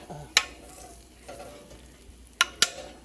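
Cauliflower roasting in a pan gives a soft steady sizzle, broken by a few sharp scrapes and clatters as the pieces are flipped and turned.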